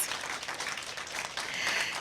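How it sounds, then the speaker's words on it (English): Audience at a secondary school debate clapping, a brief steady patter of applause from a modest crowd in a hall. "Round of applause."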